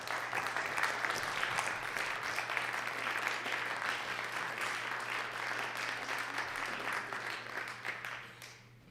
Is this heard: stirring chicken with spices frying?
no